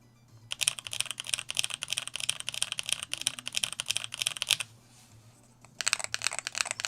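Fast, clattering keystrokes on a mechanical keyboard, close and steady, with a short pause before the typing resumes.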